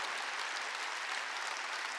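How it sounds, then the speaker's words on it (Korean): A church congregation at a Wednesday worship service applauds: dense, steady clapping from many hands fills the whole stretch at an even level, with no pause. "깨달은 사람만 박수"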